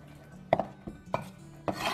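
A knife chops grass carp fish meat into pieces on a board, making four distinct, close, moderately loud thuds in an uneven rhythm.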